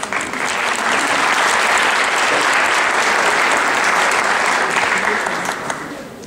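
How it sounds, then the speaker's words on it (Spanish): Dense, steady applause from a seated audience at an academic panel of experts in Mexico, welcoming a panelist; sustained clapping for about six seconds, fading slightly at the end, with no speech over it. "Recibámoslo con un aplauso."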